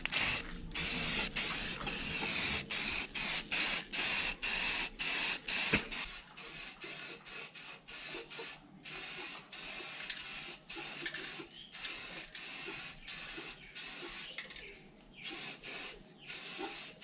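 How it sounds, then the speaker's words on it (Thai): Repeated bursts of aerosol spray paint in matte black hiss onto a steel folding table, each short spray separated by brief pauses in a steady rhythm, close and fairly loud with no talking. "จากนั้นก็ว่าจะทำพ่นสีสเปรย์ด้านนะครับเป็นสีดำด้าน"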